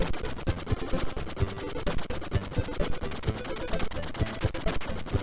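A chain of explosions in the NES game Kirby's Adventure, heard as a rapid, steady series of short, crackling blasts firing like a fast burst of gunfire for several seconds.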